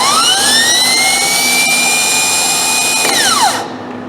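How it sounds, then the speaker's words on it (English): A starter motor from an H3 Hummer spins on a bench off a weak battery, a loud, steady high whine with rising tone that winds down sharply at the end. "I probably won't spin the starter as fast as a really good battery"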